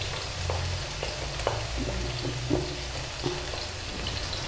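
Chopped onion, bell pepper and garlic frying in hot oil for a homemade dish, a steady close sizzle with faint crackles and occasional soft stirring clicks, no voices.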